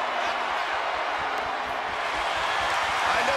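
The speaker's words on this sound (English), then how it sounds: "With every move you make, you hear this capacity crowd following you on that journey." A capacity arena crowd roars steadily throughout a WWE 2K23 wrestling match between Rhea Ripley and Charlotte Flair, a dense, continuous wash of cheering from start to finish.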